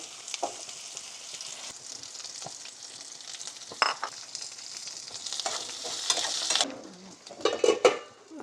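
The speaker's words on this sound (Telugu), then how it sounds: "ఇంకా గుమ్మడికాయ ఒకటి తాలింపు చేసేస్తే అయిపోతుంది." Pumpkin pieces frying in an Indian-style tempering in a pan, a steady close sizzle with scraping stirs and occasional clinks of a utensil against the metal, no talking.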